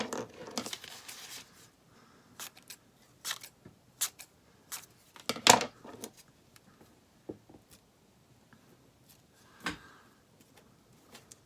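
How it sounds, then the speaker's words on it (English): Scissors snip through pieces of magazine paper in short, sharp, irregular cuts and crinkles, close and quiet against a nearly silent room. "I'm gonna have to cut some more"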